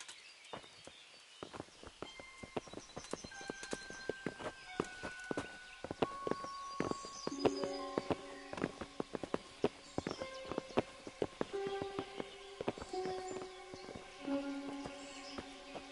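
Horses walk with distinct, uneven hoof clops on a hard surface, growing denser and closer over time, accompanied by faint jingling tack and quiet background ambience.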